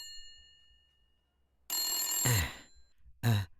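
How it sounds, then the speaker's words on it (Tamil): A telephone rings in a Tamil-dubbed film scene: two loud, bright ringing bursts close by, the first longer and the second short, with quiet pauses around them. "ஹலோ பிட்டோ, உனக்கு ஃபோன"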